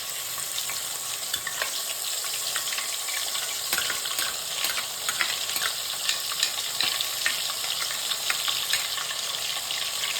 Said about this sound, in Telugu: అల్లం వెల్లుల్లి పేస్ట్ రెడీ చేసుకున్నాం కదా, అది ఈ నూనెలో వేసేయాలి